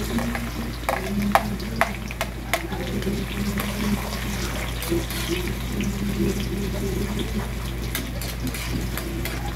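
Onions sizzling and frying in a pan for a Filipino ginisang sinarapan sauté, a continuous crackling hiss with scattered sharp pops and a few stirring clinks.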